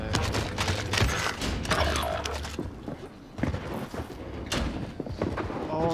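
Video-game gunfire while a controller player is being sniped in a battle royale match: irregular sharp shots and clattering bursts, some close and loud with gaps between, mixed with movement noise.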